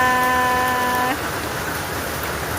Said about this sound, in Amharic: ዝናብ እየጣለ ነው ማለት ነው